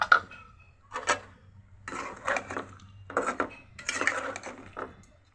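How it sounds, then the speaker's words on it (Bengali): Pieces of fried chicken go into a cooking pot in a series of distinct knocks and clatters, spaced roughly a second apart, each with a short metallic scrape of a spoon against the pot. "এখন ভেজে রাখা চিকেনটা আমি দিয়ে দিচ্ছি"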